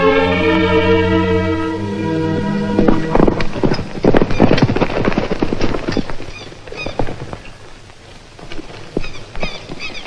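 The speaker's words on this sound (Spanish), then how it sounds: "el caballo se me espantó" A horse neighs in a long, shaky whinny, then its hooves clip-clop in a quick, uneven run of close knocks that fade toward the end.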